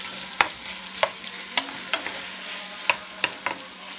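Cajun pasta with large shrimp cooks in a pan, a low sizzle punctuated by about seven sharp spoon clacks and stirring scrapes, close and clear with no voices.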